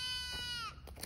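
A goat gives a single drawn-out bleat, close and clear, with a wavering nasal tone that fades at the end before a brief rustle.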